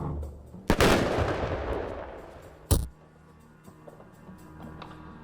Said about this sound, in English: you can just throw 1 at the armor and destroy it in a single turn